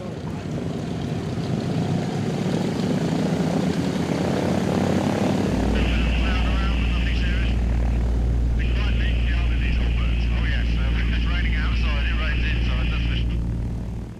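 Douglas C-47 Dakota aircraft engines run at close range, a loud continuous propeller drone that deepens and grows heavier partway through, with someone talking over it.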